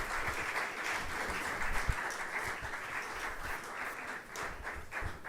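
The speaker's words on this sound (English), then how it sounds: "another round of applause" Applause from an audience at a research conference session, a fairly faint, even wash of many clapping hands sustained throughout without voices on top.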